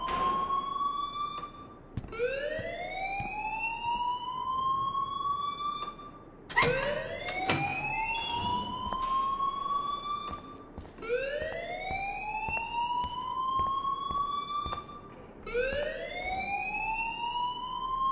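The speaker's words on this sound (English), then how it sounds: "please turn off that alarm since that's your job" A school alarm in the video game Life is Strange sounds in repeated rising electronic whoops, about five sweeping cycles loud and steady, with no talking over it.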